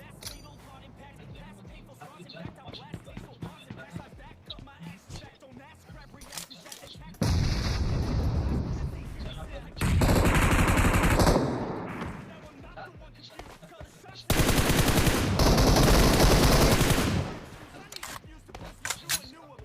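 Loud bursts of gunfire in the mobile battle-royale game PUBG Mobile, three sustained volleys of several seconds each, with quieter game sounds and someone talking between them.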